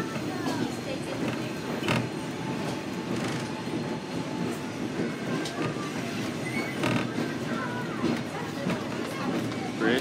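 Diesel train on the Wilmington Western Railroad heard from an open-air car, a continuous rumble of wheels and rail clatter with scattered clicks and faint squeals, moderately quiet and steady.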